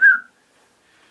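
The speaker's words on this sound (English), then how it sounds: "I think a whistle?" A single short, high whistle inside a castle, clear and fairly close, lasting a fraction of a second before fading into near silence.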